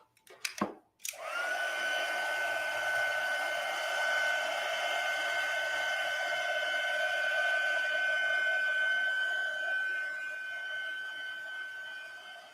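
A heat tool blows hot air onto a card to melt embossing powder, a steady close whirring hum with a sharp start after a brief click, running continuously then tapering slightly.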